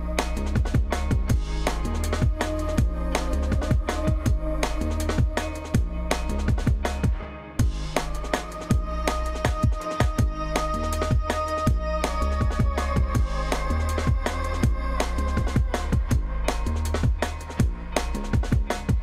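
Jungle-style bass loop built with Serum synth plucks over a deep sub bass and busy chopped breakbeat drums, dense and continuous for nearly twenty seconds, with a brief dip midway and no voice.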